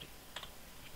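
Light, close clicks of typing on a computer keyboard, a few quick keystrokes in a short burst over a quiet background.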